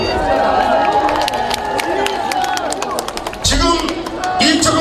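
Crowd applauding and cheering at an outdoor election rally in Gyeongsan for a Gyeongbuk governor candidate during local elections, sustained loud clapping over a busy hubbub that swells again near the end.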